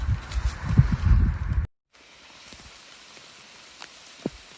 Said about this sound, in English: Just another wet day. Getting rained on.